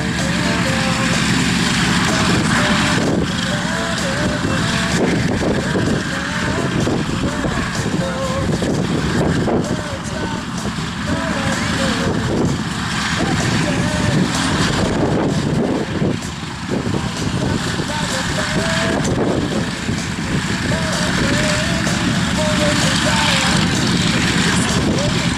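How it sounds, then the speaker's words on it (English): A Corsair fighter taxis at an airshow with its wings folded, its steady propeller engine rumble loud and continuous throughout, mixed with crowd and wind noise and a voice talking over it. "Down the taxiway with the folded wings. Makes a nice picture, an unusual photo of the Corsair with the wings folded."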